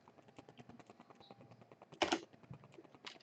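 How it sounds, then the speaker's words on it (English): Quiet, close typing on a computer keyboard: a steady run of light key clicks with one louder clatter midway, no voices. "So I start typing it in and it shows up"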